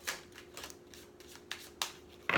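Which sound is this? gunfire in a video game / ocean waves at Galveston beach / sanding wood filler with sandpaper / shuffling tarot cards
shuffling tarot cards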